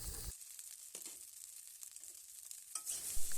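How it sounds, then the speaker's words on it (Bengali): Boiled egg chowmein with capsicum is stir-fried in a pan, giving a steady soft sizzle broken by scraping stirs and a few louder clatters near the end. "চাউমিনটা নাড়িয়ে একটু ভেজে নেব।"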